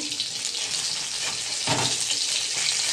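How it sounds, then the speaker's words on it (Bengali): Constant close sizzle of fresh fish frying in a little hot oil, with a slight surge in crackling partway through. "প্রায় কম মাছ করে মাছগুলো ভাজছি"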